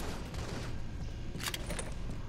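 Grenade blasts in a video game arrive as a few short, sharp bursts in quick succession over a constant low background rumble, moderately quiet and with no speech.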